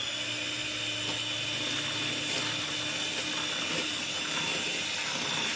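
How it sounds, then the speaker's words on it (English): A traditional hand mixer whirs continuously as it blends an avocado shake with milk, a steady high-pitched motor whine with churning liquid noise, no talking. "If you're using a traditional hand mixer like me, add the milk in bits so that it doesn't splash all over."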